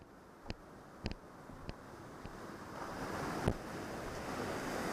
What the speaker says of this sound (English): As you can see, the waterfall is quite powerful here.